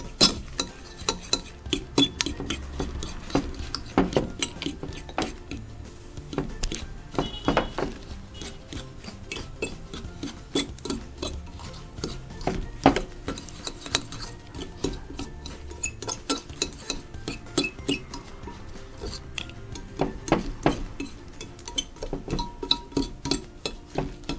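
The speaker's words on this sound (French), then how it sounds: "C'est mieux de mélanger avec une fourchette parce que le mélange devient épais." Semolina and coconut ghriba dough being mixed with a fork in a bowl, repeated close scraping and tapping clicks in an irregular rhythm with soft rubbing between, no talking.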